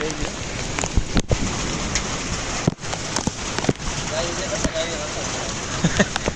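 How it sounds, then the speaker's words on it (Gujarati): Steady heavy rain pours down on a market yard in Gondal, Gujarat, with a constant hiss, broken by a few sharp splashes and knocks; faint voices can be heard beneath it. "બાકી વરસાદની મોજ છે"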